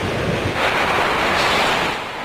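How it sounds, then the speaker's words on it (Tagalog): Strong typhoon wind roars steadily with a dense wash of heavy rain, a loud, continuous broadband rush without pauses and no voices heard. "tumitindi na ang lakas ng hangin at buhos ng ulan"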